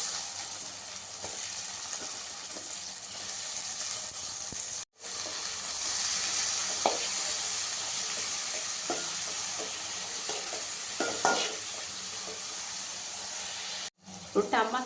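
Capsicum frying in a pan seasoned with turmeric powder, a constant hissing sizzle broken by stirring scrapes and two brief dropouts, heard close with no talk over it.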